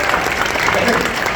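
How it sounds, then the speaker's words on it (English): A press-conference audience gives a brief round of applause, a dense, steady patter of clapping from a room full of people, heard only for a short moment. "So let's give her a round of applause for getting here."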